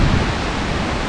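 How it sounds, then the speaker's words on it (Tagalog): Loud, steady rushing of strong wind buffeting close by, a broad roar with no voices. "Narinig nyo ba yung tunog ng hangin?"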